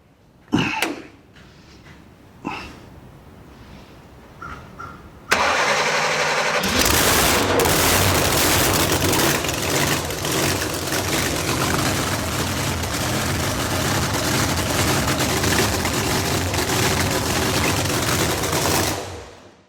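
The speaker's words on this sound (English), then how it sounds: "Fire it back up and run it through the gears real quick." A few sharp clicks and cranks, then a big supercharged 4.9 screw-blown Hemi engine roars to life and settles into a loud, steady, rumbling idle that runs on until cut off.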